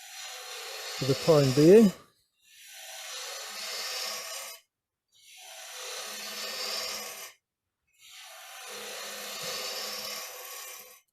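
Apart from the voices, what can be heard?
wood turning gouge cutting a rounded bottom box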